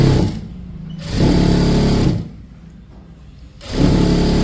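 Two loud bursts from a sewing machine stitching a churidar pant, each whirring run lasting about a second, split by a quieter pause with a faint motor hum.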